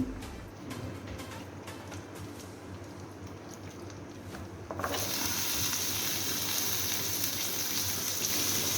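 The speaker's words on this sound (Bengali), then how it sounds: "সাদা তেলে অল্প করে তেল দিয়ে বাদামটা আগে ভেজে নেব।" Peanuts fry in a small amount of white oil, starting with a crackling sizzle. Midway it swells abruptly into a louder, denser hiss that continues steadily.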